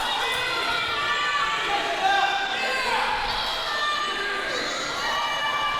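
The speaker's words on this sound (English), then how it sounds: "Jaxson Slade doesn't like the cat calling from the crowd." A wrestling crowd at a Revolt Pro Wrestling show calls out and jeers at a wrestler, a steady wash of shouting voices and scattered yells filling the arena under a commentator's voice.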